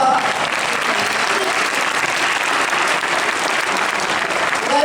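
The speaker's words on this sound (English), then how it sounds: "Give them a round of applause." A crowd applauds steadily and loudly, a dense wash of clapping hands that holds for the whole stretch without fading.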